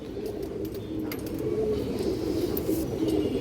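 Many pigeons coo together in a dense, low, continuous murmur at a pigeon market, with soft rustles and faint metallic jingles layered on top.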